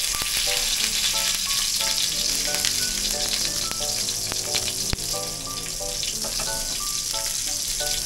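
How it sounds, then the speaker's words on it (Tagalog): Garlic, onion and tomato are sautéed in a pan as the base for prawns and crab in coconut milk. A strong, steady sizzle runs nearly unbroken, with a faint tonal background and one sharp knock midway. "gisahin na natin yung ricado"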